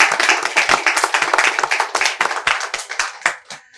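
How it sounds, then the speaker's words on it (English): Audience at the African Social Impact Summit clapping for the United Nations co-convener, a loud, close burst of many individual hand claps that thins out toward the end. "Can you put your hands together?"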